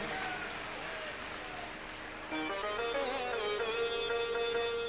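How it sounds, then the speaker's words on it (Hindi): Steady applause from an audience, continuous and fairly loud, with music starting partway through and playing on top of the clapping. "तालियों की गनगनाहट"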